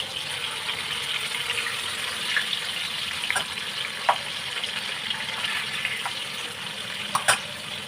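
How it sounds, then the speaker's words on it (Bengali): Fish frying in hot oil for a Bengali fish curry, with a moderate continuous sizzle and a few sharp crackles and pops near the end, no voices. "তেলটা গরম হয়ে গেছে, এবার আমি মাছগুলোকে ভেজে নেবো"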